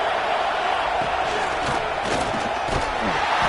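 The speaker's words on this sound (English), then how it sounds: "this home crowd is fired up and ready to make a difference today" A fired-up home crowd roars at a football game, a dense, steady wall of cheering and yelling with scattered whoops, loud and continuous throughout.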